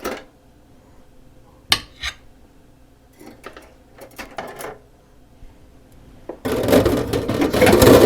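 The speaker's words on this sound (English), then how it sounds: "I'm just setting those in my sink over here." Dishes and utensils being set down in a kitchen sink, giving a few sharp clinks and clatters with quiet gaps between them, then a steady loud rush of running water near the end.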